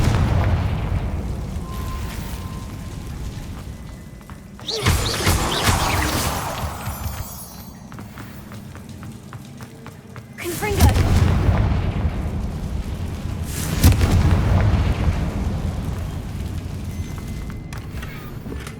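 Bombarda and Confringo spell blasts erupt in the video game Hogwarts Legacy: three loud, close explosions a few seconds apart, each a sharp broadband burst trailing into rumble over ambient game sound.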